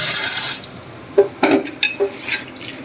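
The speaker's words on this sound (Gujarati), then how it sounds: "જો અહીંયા ચોળી ચોળીને કારેલા ધોઈ નાખવાના" Bitter gourds rubbed and washed by hand in water, giving a few close splashing, sloshing bursts against a steady background hiss, with no talking.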